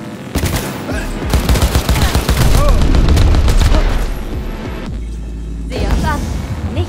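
Rapid rifle gunfire from the video game Cyberpunk 2077 crackles in dense, loud bursts over about seven seconds, with booming low impacts beneath and a brief lull near the end before more shots.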